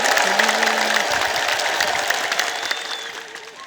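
A crowd at a Timkat celebration ululates in praise, a dense, loud, high wavering chorus that fades toward the end, with a brief low hum underneath early on.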